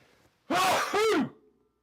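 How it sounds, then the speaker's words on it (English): A single loud, close sneeze bursts out in two quick parts, a sharp intake followed by the explosive release, then quiet. "Forgive me, there's a sneeze coming."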